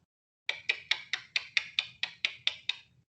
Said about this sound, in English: The bond log tool, it sounds like this when it's activated.